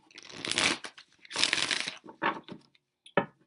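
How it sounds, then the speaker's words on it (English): Tarot cards being shuffled by hand in several bursts, a riffling, papery rustle repeated four times with short pauses between, close and fairly loud. "Gonna get a couple more shuffles in to make sure"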